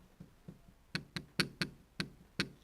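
Sharp knocks in an irregular run from a rod on a Yamaha Tenere 660 motorcycle: a few soft taps, then about six louder, crisp metallic knocks spaced a fraction of a second apart, close by.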